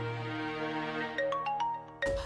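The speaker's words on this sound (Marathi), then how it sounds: "त्या शिल्पीचा फोन उचलते" A mobile phone ringtone plays a repeating electronic melody of bright tones, fairly close and loud, with no voices over it, in an indoor domestic scene from a Marathi TV serial.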